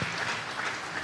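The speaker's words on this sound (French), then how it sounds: "Acclamons très fort pour le roi de roi" A church congregation breaks into loud, sustained applause, a dense wash of clapping from many hands with no talking over it.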